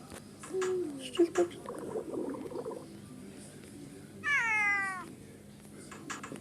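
A cat meows a few times indoors at an adoption place, with soft short calls early on and a louder drawn-out meow later, under a faint background hum.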